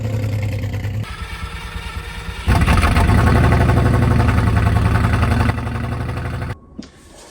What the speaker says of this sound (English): It sounds like it's running on like 8 cylinders or something, I don't know, it just sounds really lumpy.